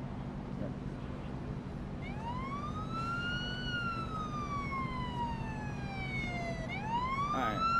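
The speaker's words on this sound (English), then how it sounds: "The ambulance is here, on scene." A video game ambulance siren wails, rising and falling in long sweeping tones over a low engine hum, then starts a new rising sweep near the end.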